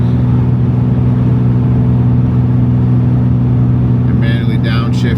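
A vehicle engine pulls steadily up a snowy mountain pass after a manual downshift at highway speed, a loud constant low drone heard from inside the cab, with a brief higher whine near the end.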